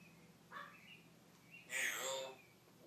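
A pet bird kept indoors gives a few quiet chirps and calls, with a short call first and a longer, brighter one later, all faint against a low room hum.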